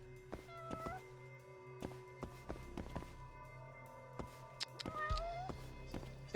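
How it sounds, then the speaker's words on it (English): A cat meows faintly a few times from somewhere nearby, short rising cries mixed with scattered clicks and knocks against a quiet room hum. "Wait, is there a cat nearby?"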